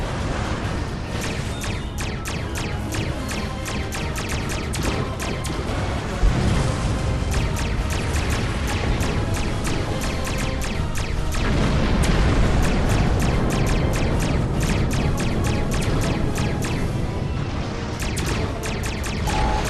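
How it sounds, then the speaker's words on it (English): Starship explosions in the space combat game Star Trek Online: a dense, continuous barrage of booming blasts and crackling bursts, loud and unbroken for about twenty seconds, with heavier thuds rising partway through. "Ship explosions cause damage."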